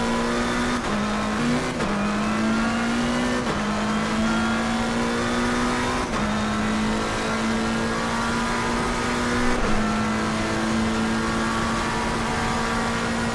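Race cars scream around Suzuka in a racing video game, one engine droning steadily and close, stepping through gear shifts every few seconds, with other cars audible nearby and no talking.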